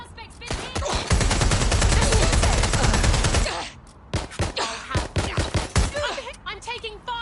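Rapid automatic gunfire from Watch Dogs Legion on PS4, a loud sustained burst of shots for several seconds, followed by a string of separate sharp single shots.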